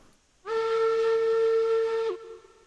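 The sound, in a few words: steam locomotive whistle in video game Railroads Online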